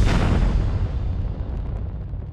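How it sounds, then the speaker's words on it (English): An Agena target rocket breaking up during ascent: a loud, close, sustained rumbling roar that slowly fades over a few seconds, with no voices. "The Agena breaks up on ascent."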